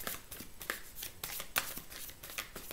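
Tarot cards shuffled by hand in a quiet room, a run of soft, quick riffling flutters and light slaps at an uneven rhythm, close and fairly faint, with no talking.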